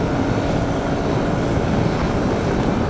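KTM 390 Adventure motorcycle engine cruising at about 7,200 RPM and 130 km/h, a dense steady drone blended with heavy wind rush, loud and unbroken with no talk.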